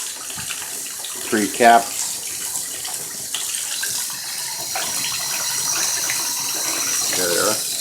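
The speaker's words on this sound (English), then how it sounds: "Rinse it off real good." Tap water runs steadily while trumpet parts are rinsed off, a continuous close hiss and splash with a brief voice speaking over it early on.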